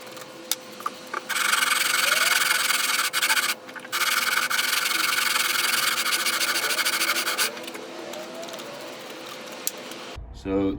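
Guitar frets being sanded with 80 grit sandpaper during a refret of a bound neck, a steady loud abrasive rasping that runs for several seconds, pauses briefly, then continues before stopping near the end.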